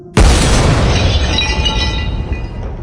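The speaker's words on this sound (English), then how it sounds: "There's another gunshot." A gunshot sound effect bursts out as a single sharp, loud boom with glass breaking in it, then rings and decays slowly over the next couple of seconds with no talking.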